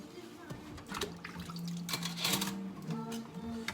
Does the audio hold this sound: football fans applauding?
no